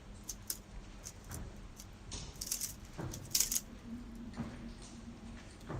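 A Rubik's Cube turned by hand, giving light plastic clicks and snaps in irregular bursts, near and fairly quiet against a soft background hum.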